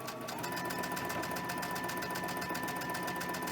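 A sewing machine stitches quilt pieces for a half square triangle tree quilt, running as a steady, continuous mechanical whir with a rapid needle rhythm throughout, fairly quiet and close, with no talking.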